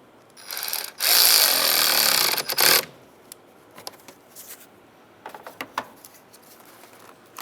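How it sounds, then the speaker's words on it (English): A nut is tightened on a car battery terminal during a coolant temperature sensor replacement on a 2007-2015 Mazda CX-9, a loud close grinding rasp for about two seconds followed by scattered light metallic clicks and taps. "Tighten up that nut."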